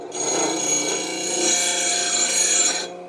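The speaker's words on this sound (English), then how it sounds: "It's just a 12-inch bench grinder or disc grinder." A 12-inch bench disc grinder chamfering the edges of steel engine mounts makes a continuous close rasping grind for about three seconds, starting and stopping abruptly.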